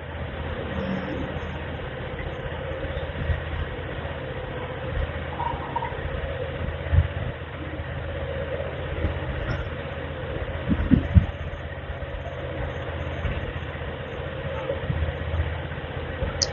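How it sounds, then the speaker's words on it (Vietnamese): A Honda Air Blade 125 scooter engine idles with a steady low rumble and constant drone, occasional faint clicks and knocks on top, no talking. "Cho nóng máy đó."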